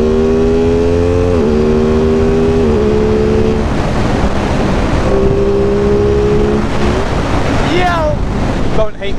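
An Aprilia Tuono 660 Factory motorcycle accelerates hard in third gear on a street ride, its engine note climbing in steady pulls with brief dips at shifts, under heavy wind rush close to the rider.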